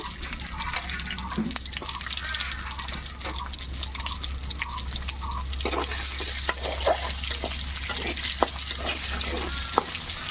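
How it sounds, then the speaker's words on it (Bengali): A steady sizzle of onions frying in mustard oil in a pan, with stirring scrapes and occasional sharp clicks and pops, close and moderately quiet. "আমি আবার ফোড়নের জন্য কড়াইয়ে দিয়ে দিলাম সরষের তেল। দিয়ে দেব পেঁয়াজ কুচি"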